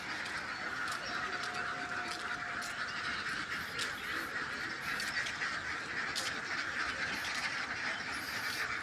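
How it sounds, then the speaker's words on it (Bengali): Ducks at a duck farm in a wide rural field, a dense, continuous chorus of quacking and honking from many birds at a moderate distance. "আর এই যে হাঁসের খামার দেখা যাচ্ছে।"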